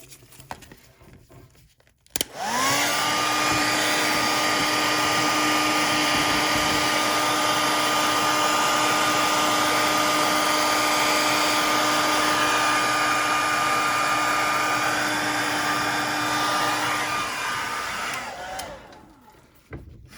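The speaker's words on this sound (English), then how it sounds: "make sure there's nothing that gets blown when I turn this hairdryer on" A hair dryer switches on and runs at a steady, loud whine with a broad rushing blow for about sixteen seconds, then cuts off, with quiet room noise before and after.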